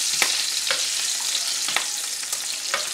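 Five slices of bacon frying in a pan, a close, steady crackling sizzle with sharp pops and occasional stirring scrapes, no speech.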